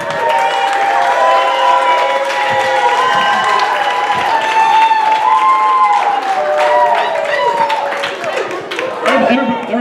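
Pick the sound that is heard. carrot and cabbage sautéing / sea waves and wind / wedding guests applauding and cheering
wedding guests applauding and cheering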